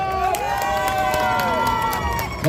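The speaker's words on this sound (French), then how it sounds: "j'espère en tout cas que vous allez faire un tonnerre d'applaudissements à tous nos cosplayers" Audience at the Paris Games Week 2024 cosplay show cheers and claps, a busy crowd roar with rising whoops and shouts, fairly close and continuous.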